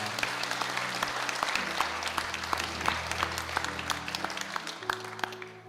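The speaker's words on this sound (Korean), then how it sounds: "우리 모두가 축하해 힘찬 박수 한번 하십시다" Congregation in a Korean Holiness church applauds during an Easter Sunday service, sustained crowd clapping with low instrumental tones humming beneath.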